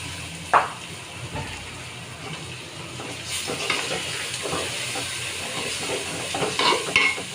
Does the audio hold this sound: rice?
yes